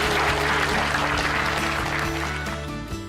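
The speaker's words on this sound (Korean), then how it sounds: "감사의 박수 한번 부탁합니다." An audience at a Democratic Party regional committee gathering gives thankful applause for a visiting provincial governor, a sustained, even wash of clapping that fades slightly toward the end, with no voices over it.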